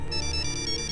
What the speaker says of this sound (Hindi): किसका फोन है? पापा का फोन है।